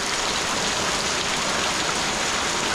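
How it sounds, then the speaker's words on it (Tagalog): Rain pouring steadily, a loud unbroken hiss of drops striking nearby surfaces, with no voices heard. "Ulan!"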